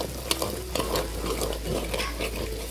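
Ground spices and a dalwa paste fry in hot oil for a spicy village-style chicken curry, giving a steady, close sizzle with a few sharp stirring scrapes and clatters and no voices.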